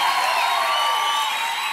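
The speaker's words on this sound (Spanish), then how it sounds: "A él también tiene que darle ese aplauso" Crowd at a Christian music concert cheering and applauding, a loud continuous roar of clapping mixed with shouts that holds steady throughout.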